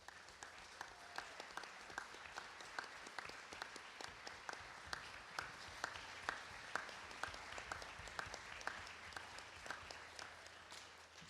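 Faint applause from a conference audience at a Model United Nations opening ceremony rises for the committee chairs, an even patter of many hands with a steady rhythmic clap cutting through, continuing without speech.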